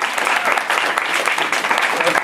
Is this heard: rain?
no